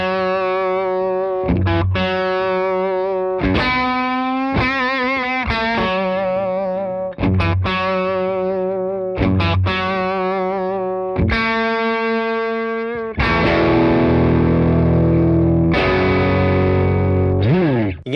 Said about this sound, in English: Crank the gain up to halfway.